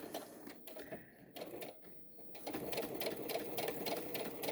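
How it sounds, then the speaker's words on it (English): A sewing machine back stitches along the top edge of a little dress, first running in short stop-start bursts, then settling into a steady, close, rapid needle rhythm. "Okay, so I'm going to back stitch it."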